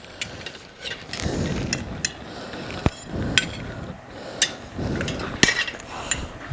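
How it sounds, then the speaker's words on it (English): A bead buddy tool being fitted onto a dirt bike tire rim, with a series of sharp metallic clicks and knocks over scraping and handling noises, close and fairly quiet. "I'm setting my bead buddy right here"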